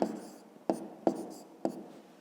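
Pen on paper writing out large numbers by hand during a fifth-grade maths exercise: a few distinct scratchy strokes and taps, close and clear, with a soft rubbing hiss between them and no talk.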